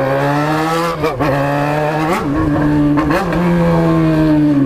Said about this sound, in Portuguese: Motoca berrando